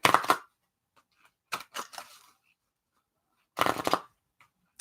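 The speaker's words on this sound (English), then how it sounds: "I'm going to do 3 shuffles." Playing cards riffled and shuffled in three quick bursts, crisp and close, with silence between them.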